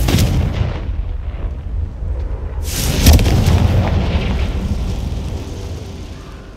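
A Confringo spell explosion in Hogwarts Legacy set off inside a cave, first a rumbling roar, then a sharp loud blast near three seconds that decays into a long rolling rumble.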